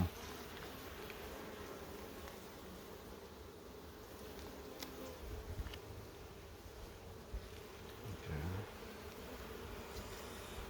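A dense, steady buzz of a populous honeybee colony on eight frames in a hive, continuous and close, with slight swells and occasional faint handling knocks.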